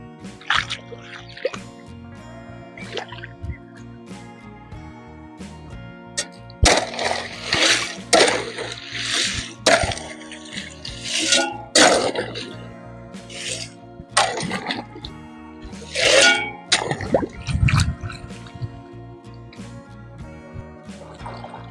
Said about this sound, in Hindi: ये गुवार में पानी जा रहा है